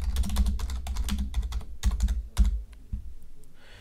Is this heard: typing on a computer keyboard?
yes